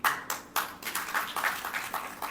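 Audience at a golden jubilee ceremony for Bachon Ka Bagh clapping in a hall, a steady patter of fairly faint, distant claps from several people, rising and falling in small bursts.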